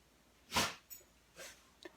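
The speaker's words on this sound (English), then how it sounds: "That's our dog, Luna." A dog in a room gives one sharp snort or huff, followed by two softer breathy puffs and a small click, close and fairly quiet.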